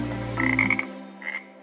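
A Kambo frog croaks in the rainforest near Iquitos, Peru: a few close, raspy croaks in quick succession, a pause, then another croak, all over a steady low background hum.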